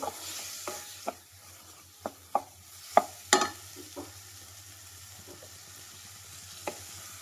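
Tomatoes frying with toasted spice masala powders for brinjal curry, with a faint steady sizzle under a series of sharp spoon taps and scrapes against the pan, close and fairly quiet.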